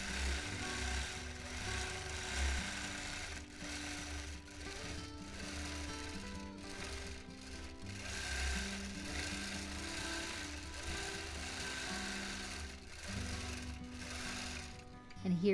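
A sewing machine stitches freehand quilting lines across fabric, a steady close mechanical hum and chatter running throughout with brief speed changes, while a person talks over it.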